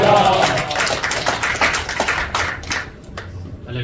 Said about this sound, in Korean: 큰 박수로 환영하셨습니다